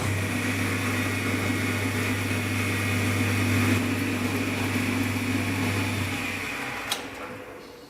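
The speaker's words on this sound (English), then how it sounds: "then use the lathe to give a shine" A wood lathe spinning a wax-polished wooden pen piece to bring up a shine, a steady motor hum and whir that runs for about six seconds and then winds down to a faint tail, with no talking.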